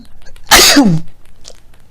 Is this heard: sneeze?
yes